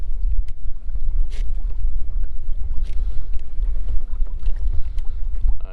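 A Hobie Outback or Jackson Coosa FD fishing kayak moving through water at cruising speed, a steady low churning rumble of water and hull with light splashing and wind noise, close and continuous.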